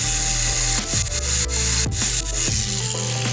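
A raw cast metal jewelry piece being sanded after casting and soldering, with repeated short scraping rubs in a steady back-and-forth rhythm, close and fairly loud, alone without speech.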